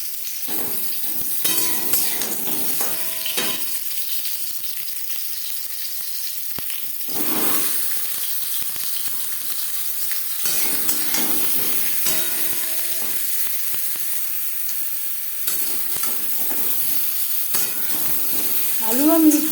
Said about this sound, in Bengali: তেল গরম হয়ে গেছে, দিয়ে দেবো আলু।